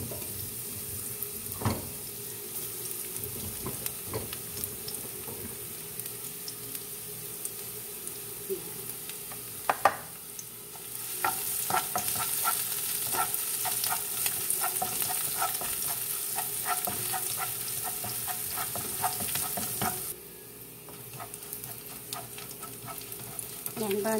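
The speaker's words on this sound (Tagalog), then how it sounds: "maglagay po tayo doon ng oil, kunting oil. Lagyan po natin ng bawang." Garlic sautéing in a little oil in a pan, a steady sizzle and crackle running throughout, with occasional sharp scrapes and taps of a stirring utensil and a louder, hissier stretch in the middle.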